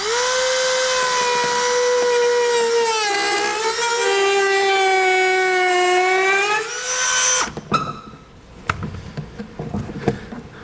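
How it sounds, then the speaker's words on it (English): A handheld Dremel rotary tool whines at a steady high pitch while cutting a plastic bed liner for a gooseneck hitch install on a 2012 Ram 2500, then stops abruptly, leaving brief clatter and handling noises. "So being plastic, I'm going to use a Dremel tool."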